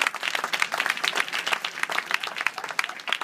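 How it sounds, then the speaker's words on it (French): An audience at a local theatre festival claps steadily, a dense, even patter of many hands at close range with no pauses. "Je voudrais qu'on l'applaudisse très fort."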